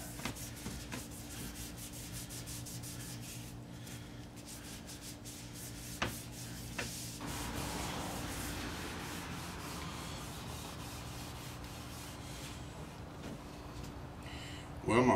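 Cloth rubbing wiping varnish (boiled linseed oil, denatured alcohol and shellac blend) onto a cherry wood pedestal table column, a steady soft scrubbing texture that continues through the stretch with a low background hum.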